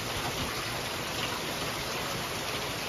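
Steady rain falls outdoors near a tree as a dense, even hiss of drops hitting surfaces, loud and constant throughout with no voices.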